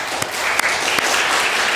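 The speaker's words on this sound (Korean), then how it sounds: "격려의 박수 한번." A church congregation at a Sunday afternoon worship service breaks into steady, dense applause, a continuous patter of many hands with a few louder claps near the front.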